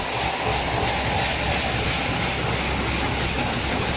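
A Girnar 4 groundnut threshing machine running on G22 groundnuts and driven by a tractor, a loud, continuous mechanical rumble and rattle with a steady clattering texture, close by.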